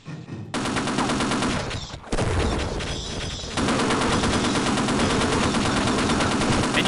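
Rapid, continuous automatic gunfire from Half-Life, loud and close, with a brief break before the shooting resumes just as densely.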